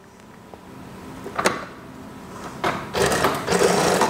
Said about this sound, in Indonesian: kita jahit seperti biasa